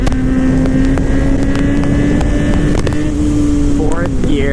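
A tuned 2024 Kawasaki motorcycle in 4th gear at about 55 mph holds a loud, steady engine drone with a sustained whining tone, heavily buffeted by wind rushing across the microphone.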